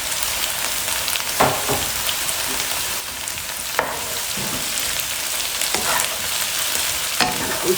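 Okra with chili and coriander being stirred in a pan, a steady crackling sizzle broken by repeated scraping strokes of a spoon every second or so, close and clear with no voices.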